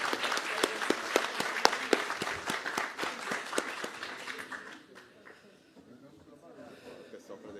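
Audience applause at a solemn inauguration ceremony for a pharmaceutical sciences academy's new board, dense clapping with sharp individual claps, loud for about five seconds then thinning and fading to quiet room murmur.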